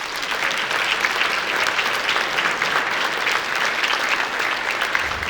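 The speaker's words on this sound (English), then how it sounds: "Let's give them a round of applause." Steady, dense applause from an audience at the ISA 2022 Impact Awards ceremony, filling the room evenly for several seconds with no talking over it.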